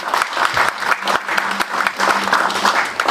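A church congregation applauds steadily, dense rhythmic clapping from many hands filling the room at close range, with no talk rising above it.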